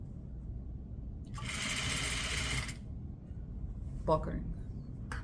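A sewing machine stitching a set-in jacket sleeve runs in one steady buzzing burst of about a second, with quiet talk before and after it.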